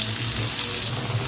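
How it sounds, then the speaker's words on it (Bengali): Potatoes with salt and turmeric frying in hot oil in a pan, a dense steady sizzle with a watery hiss, close and even, no talk. "ভালো করে আলুটা ভেজে নেব লাল লাল করে"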